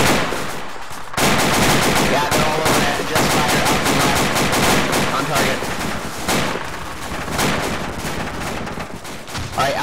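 Sustained gunfire during a combat exercise, with dense bursts of automatic and rifle shots rattling continuously across the whole stretch, loud and close, with radio-style voices talking underneath.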